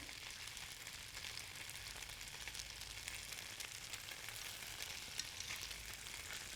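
Pot stickers fry in oil in a pan with a steady, soft, continuous sizzle and crackle heard close up, without any talking.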